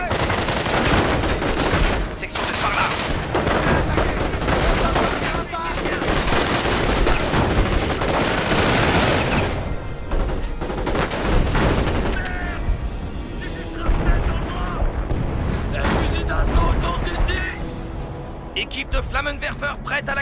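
Gunfire and artillery strike a base in the Company of Heroes video game: continuous loud bursts of shots and heavy booms, dense and overlapping, with a French-language voice heard among the battle noise.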